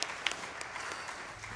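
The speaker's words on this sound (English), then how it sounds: "go ahead and clap for that" Audience clapping at a live speedrunning charity marathon event, a faint, steady spatter of applause from a crowd throughout, without talk.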